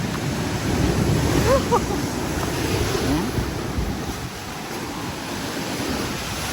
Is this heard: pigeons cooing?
no